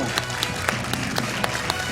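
Studio audience applause on a French television quiz show, a steady patter of clapping with sharp individual claps running under a host's talking.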